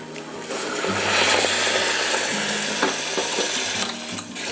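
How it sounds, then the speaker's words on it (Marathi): Hot water hits frying masala for stuffed brinjal in a pan, giving a steady, loud broadband sizzle with light stirring scrapes throughout, and no voices. "आपण आता हे मसाले व्यवस्थित शिजण्यासाठी थोडंसं गरम पाणी टाकणार आहोत त्यात"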